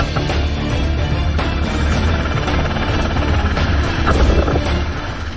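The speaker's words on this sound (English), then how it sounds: "The helicopter will gradually move down when wild pigs are detected" A helicopter flies low over wooded country while hunting wild boars. Its engine and rotor give a loud, steady roar, buffeted by heavy wind noise on the microphone throughout.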